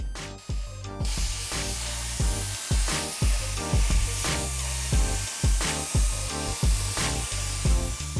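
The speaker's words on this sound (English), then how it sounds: "The doctor can handle cutting a little ladder out with the plasma cutter" A plasma cutter slices a small ladder shape out of metal with a steady, harsh hiss, broken by rapid repeated thumps and pops, close and loud with no talk.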